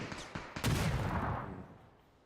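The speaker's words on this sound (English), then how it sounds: "The artillery barrage is just continuing to head in his direction." Artillery barrage explosions land in a PUBG Mobile-style battle royale match, a cluster of sharp blasts followed by a heavy, rolling boom that slowly fades out, with no voices over it.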